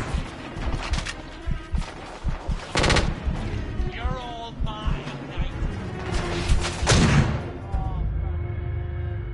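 Automated sentry guns aboard an airship in a video game fire in loud, dense rapid bursts with heavy impacts, running through most of the stretch, with brief pauses and a voice speaking between volleys.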